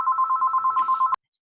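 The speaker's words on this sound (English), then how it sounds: "Is that somebody's phone?" A telephone bell rings in a rapid repeating trill for about a second, clear and fairly close, then cuts off abruptly into silence.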